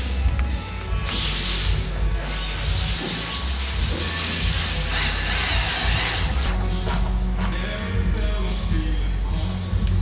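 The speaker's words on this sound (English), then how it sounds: "I'm gonna pre-drill so that it goes into the metal frame easier and through the wood and the rubber laminate" A power drill bores through wood, rubber laminate and a metal frame during a Westfalia van seat install, giving a steady close grinding whir with rising scraping tones as the bit bites.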